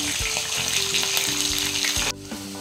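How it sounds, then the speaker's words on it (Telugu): Onion pieces and green chilies hit hot oil for a chicken curry, giving a loud, steady sizzle with scraping stirs, which cuts off abruptly near the end before a softer frying hiss resumes. "ఇప్పుడు ఉల్లిపాయ ముక్కలు, పచ్చిమిర్చి వేస్తున్నాను."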